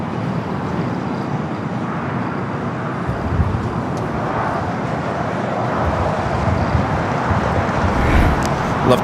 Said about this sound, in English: Lufthansa Flight 456 coming in from Frankfurt, the 747-8 Intercontinental